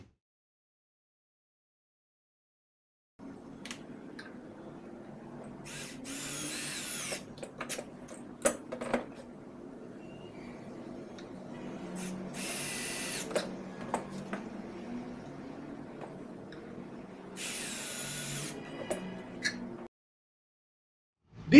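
A power drill drives a screw into a pocket-hole joint joining two clamped wooden pieces, a steady whirring motor run with sharper bursts of higher-pitched spinning and clicks, fairly close and alone, stopping before the end.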